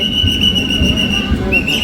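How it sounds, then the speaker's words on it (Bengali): A train rolls in with a steady low rumble and a sustained high metallic squeal of wheels on rails, close by and loud throughout. "অলরেডি তেইশ মিনিট লেট ট্রেন ঢুকছে"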